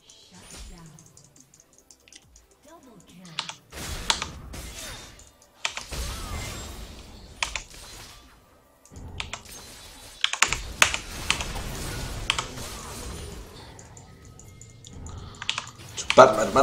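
Rapid clattering of a computer keyboard and mouse clicks while playing League of Legends, coming in irregular bursts of varying loudness with a voice talking between them.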